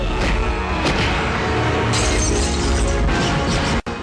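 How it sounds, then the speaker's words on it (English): Crashing into empty cardboard boxes in a film scene, a dense loud burst of crunching and smashing clatter that continues for several seconds before cutting off abruptly. "Did you know that empty cardboard boxes sound like this when you crash into them?"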